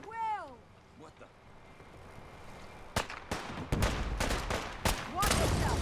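Gunfire in Fallout 4's Far Harbor during a foggy defence: after a quiet opening with a wavering cry, sharp shots ring out, then rapid volleys and bursts crackle close and loud, with voices shouting among them.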